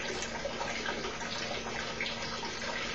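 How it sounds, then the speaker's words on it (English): Water discharging from an orifice in a tank during a flow experiment, a steady, close rushing and splashing stream that continues evenly without pause and with no talking. "measure the flow rate of the water coming out of the orifice"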